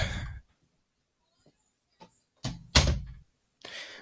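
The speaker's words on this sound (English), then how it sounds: "Let me just close my door." A bedroom door is pushed shut close by indoors, giving a couple of sharp thuds with a short latch click amid otherwise quiet room tone, and a breathy sound before it.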